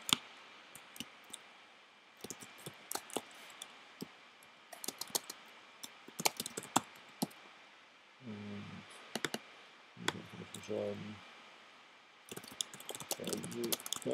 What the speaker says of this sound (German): Hier schreibt man das Thema hinein.